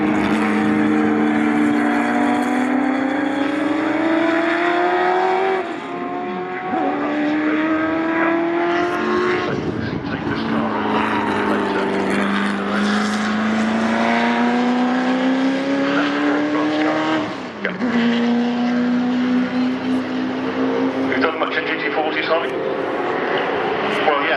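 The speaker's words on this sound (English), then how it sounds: "There is the Richard Cook and David Cuff car" Ford GT40 race cars lap Silverstone with sustained, loud engine roar rising through gears and dropping at shifts, several cars passing in succession, with a commentator talking over them.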